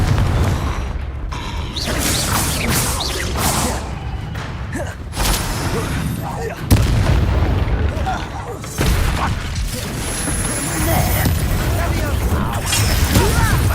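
A Confringo blasting spell bursts in Hogwarts Legacy gameplay, a loud booming explosion thick with crackling mechanical clatter and thuds, layered over dense game music and effects throughout.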